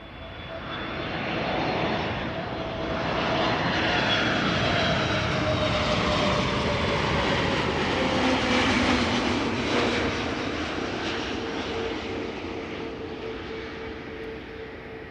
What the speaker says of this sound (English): This is Aer Lingus Shamrock Flight 604, arrived from Dublin, Ireland.